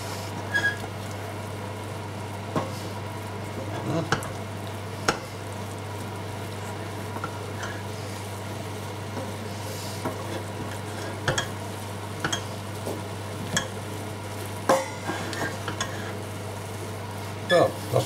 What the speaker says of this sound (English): Now I just need to make sure the mushrooms, every mushroom is well coated. So I'll just give it a stir around.